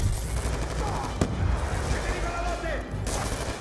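Automated security turret firing during a Call of Duty: Black Ops 2 battle, sustained dense gunfire and explosions filling the scene with a continuous loud roar.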